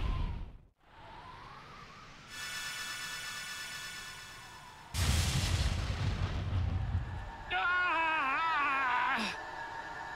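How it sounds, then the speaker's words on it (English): Cannon blasts in the video game Rogue Galaxy: a sudden broadband boom with rumbling low end bursts out mid-sequence, set among game music with sustained tones and a warbling synth line, no talk. "Got fucking shot from a cannon"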